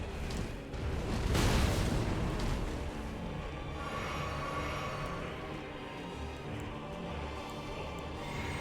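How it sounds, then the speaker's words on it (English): A deep rumbling explosion bursts early as the Fire Giant boss shifts into its second phase in Elden Ring, then fades into a lower, sustained roar of battle ambience. "You're not gonna do your phase 2 transition explosion bullshit?"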